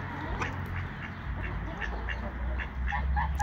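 Several ducks quack in short, overlapping calls over a low outdoor rumble.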